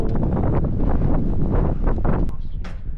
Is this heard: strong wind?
yes